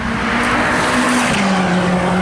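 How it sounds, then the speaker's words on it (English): A car blasts past on the Goodwood race track during a track day, a loud, close engine roar whose pitch drops as it goes by, with hints of tire noise. "there's some very, very cool cars going around the track"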